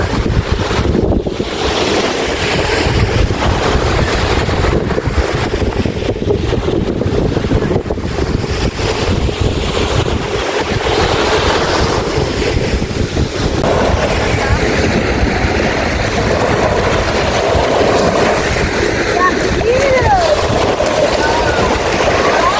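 Strong wind buffets the microphone over the continuous wash and roar of sea waves, loud and close throughout.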